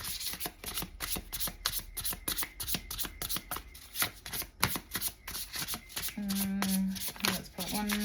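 Oracle cards are shuffled by hand in a steady run of quick riffling slaps, close and fairly loud, with a brief hum of a voice near the end.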